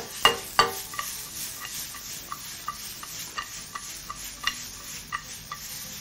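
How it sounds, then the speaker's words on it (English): Onions sweating gently in a pan give a soft, low sizzle, broken by a series of sharp clicks and taps from stirring, some louder near the start. "This should take you just about a minute to sweat them off very, very gently."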